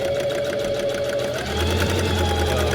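A sewing machine runs steadily, stitching curtain fabric for a sailboat; the motor whirs loud and continuous and picks up speed partway through.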